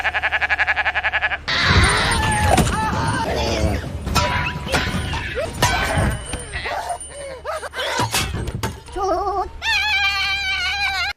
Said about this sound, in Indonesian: kecelakaan akibat seekor kambing yang berdiri di tengah jalan